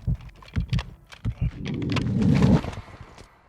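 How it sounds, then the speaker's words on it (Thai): Heavy enemy footsteps thud in a quick uneven run in Call of Duty Warzone 2.0, close and distinct, then give way to a swelling rumbling noise that fades out. "ดีได้ยินเสียงเท้าก่อน"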